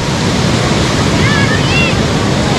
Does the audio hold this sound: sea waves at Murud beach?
yes